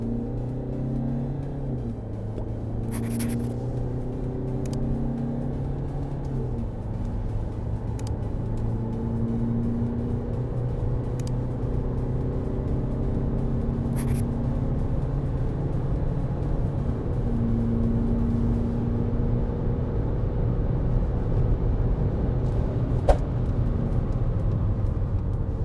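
A 2018 Land Rover Discovery Sport diesel holds a steady, loud engine drone near 2,400 rpm with the brake on, the pitch shifting as it pulls away from a standstill. The rumble runs unbroken, with a few faint clicks over it.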